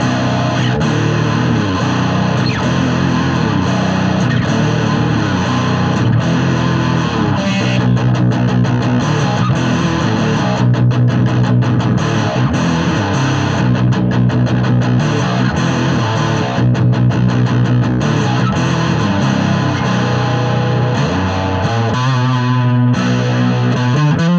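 A heavily distorted Harley Benton R 457 electric guitar on its middle pickup chugs and rings out thick chords continuously, loud and saturated, with brief muted gaps in the strumming.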